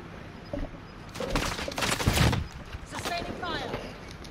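Sustained gunfire in the Call of Duty Cold War Warzone video game. Bursts of shots build in the middle and then taper off, fairly faint and mixed with background voices.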